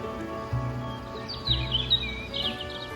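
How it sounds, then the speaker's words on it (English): Birds warble in an outdoor scene from the game Goddess of Victory: Nikke. High chirps and short trills come in scattered bursts above a steady background hum, clear but not loud. "The warbling of birds that were actually there, not some sound coming from a speaker."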